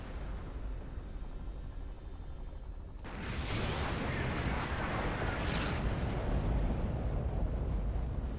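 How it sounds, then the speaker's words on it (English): A missile fired and exploding in the Fallout: New California game, a quiet stretch that suddenly gives way to a loud, sustained roaring blast and rumble lasting several seconds. "Fire the missile."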